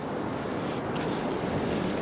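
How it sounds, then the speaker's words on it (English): Winter sea waves break on a North East shoreline during a falling tide, a constant broad roaring wash mixed with wind buffeting, moderately loud and without talk. "still the odd fairly decent sized wave coming in"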